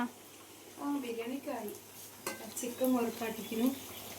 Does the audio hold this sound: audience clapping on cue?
no